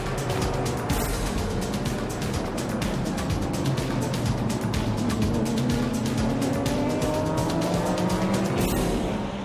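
Le Mans Series race cars, a Ferrari and Porsches, scream past on track in 2007, loud continuous engine howl with rapid rhythmic pulsing and shifting pitch as the cars race close by.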